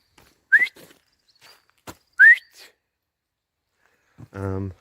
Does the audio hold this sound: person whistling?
yes